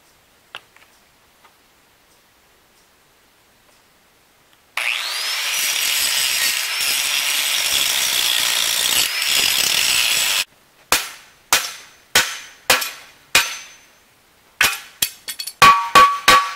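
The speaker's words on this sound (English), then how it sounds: "I'll just get my grinder out, we'll grind that weld off and pop that right off" An angle grinder spins up and grinds a weld off a rusty trailer for about six seconds of loud, continuous, rasping noise after a quiet start. A quick series of sharp metallic knocks follows.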